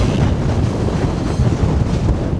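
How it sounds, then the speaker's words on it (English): Strong wind buffets the microphone in a constant loud roar, with low rumbling gusts and no pauses, during a severe storm at a VW T4 van campsite in the UK. "Wow, it's windy. Very windy, campers."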